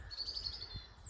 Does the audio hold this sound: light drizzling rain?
no